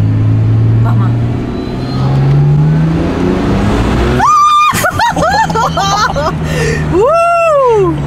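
Turbocharged and supercharged BMW 325 engine revving and accelerating in low gears, a loud droning note with rising harmonic sweeps, while people talk excitedly inside the car.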